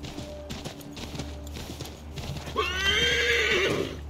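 A horse in Assassin's Creed 3 whinnies loudly and close, a long shrill neigh that rises and trembles near the end, after a stretch of hoof clip-clops and background noise.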